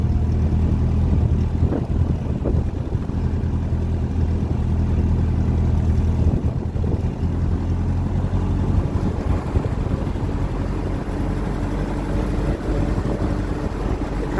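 A 1957 Ferguson 35 TVO tractor engine runs steadily on the road in strong wind, its continuous low rumble mixed with loud buffeting wind across the microphone throughout.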